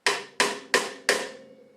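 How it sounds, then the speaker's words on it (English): Four sharp, woody cross-stick clicks on a snare drum, the stick laid across the head and rim, struck at an even moderate pace, close and clear with short ringing decays and no talk. "for the snare drum this time, we're going to do what's called a cross stick"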